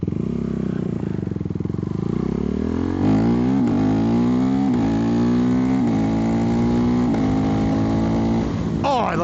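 KTM Duke 390 motorcycle ridden hard with a quick shifter, loud continuous engine note rising in pitch through the gears with brief shift breaks, heavy wind rush throughout.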